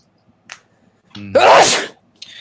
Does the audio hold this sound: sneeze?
yes